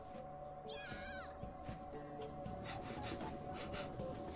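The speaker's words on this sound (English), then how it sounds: "Did I just punch the cat? What the hell was that sound?" Cat sound in the video game Persona 5 Royal after the cat is punched, a brief wavering yowl over a busy, steady game backdrop of music and effects.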